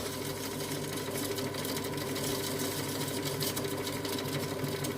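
An All Cook food processor whips egg whites as sugar is added for a dacquoise cake, giving a loud, continuous motor whir and rattle that holds steady throughout, close by with no talk.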